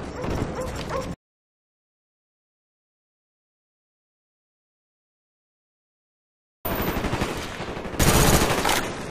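Video game attack dogs bark and yelp amid rapid machine-gun fire in two loud bursts, split by a long stretch of silence.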